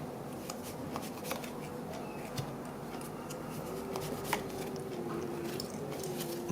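Cards from an oracle deck slide, shuffle and snap as three are drawn for a love reading. The rustles and flicks are close and soft over a faint background hum.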